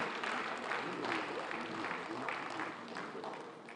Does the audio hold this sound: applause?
yes